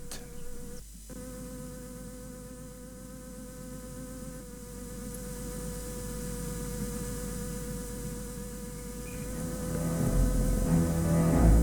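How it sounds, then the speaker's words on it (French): A large bee fly buzzes continuously with a steady drone, fairly close, growing slightly louder toward the end amid soft outdoor background noise. "Cette grosse mouche déguisée en bourdon"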